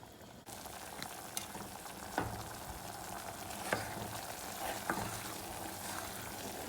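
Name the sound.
seasoning poured into melted butter, sizzling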